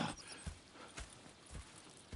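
Horse hooves clip-clop at a steady walking pace in Red Dead Redemption 2, with regular, faint hoof strikes about every half second.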